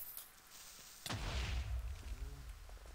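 A Minecraft creeper explodes in a sudden loud blast that decays into a rumbling tail, with small game sounds following in the quieter stretch.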